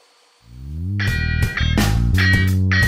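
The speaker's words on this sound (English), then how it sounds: "so I just push it against the fence while doing the cut" A DeWalt DWE7485 table saw spins up with a rising whine, then its blade bites a board pushed through a crosscut sled, giving a loud, close, harmonic-rich cutting roar with surging bursts.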